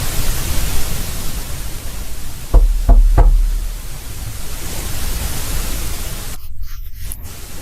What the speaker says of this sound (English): Do 3 knocks.